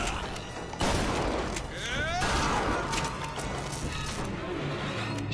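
Shotgun blasts in the first-person shooter BioShock Infinite, a loud burst of gunfire with mechanical clatter and crashing impacts, busy combat noise filling the whole stretch.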